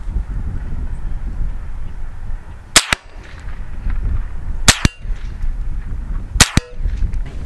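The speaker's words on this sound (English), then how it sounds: "He's gonna fire 3 rounds down there at our steel plate and hope it don't go through." Three sharp cracks from a .22 rifle fired at a steel plate, spaced roughly two seconds apart, each a crisp report close by over steady low outdoor rumble and wind, no talking.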